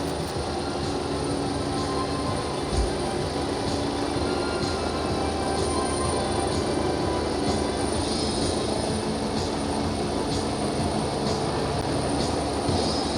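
Super Lynx and Phoenix gunship helicopters fly low in a nap-of-earth maneuver during a military firepower exercise, a constant engine and rotor drone with faint regular blade pulses, steady and moderately distant throughout.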